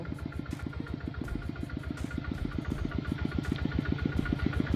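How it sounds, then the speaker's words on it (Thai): A tractor engine idles close by, its rapid, even chugging thumping steadily without a break. "มาแล้วนะคะรถไถเรา"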